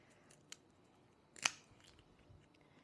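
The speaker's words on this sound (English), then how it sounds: "So what I would do here is actually use scissors" Scissors snip through a snow crab shell in a quiet kitchen, one small click followed by a single sharper crunching cut, with faint handling noise around it.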